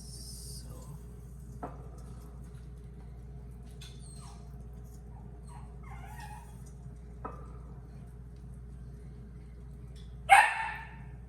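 After a long stretch of quiet hum and faint clatter of pholourie frying, a dog lets out a single sharp bark close by near the end.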